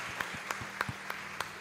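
A church congregation claps for Jesus, a faint, sparse applause with a few distinct claps standing out over a low hum of the room.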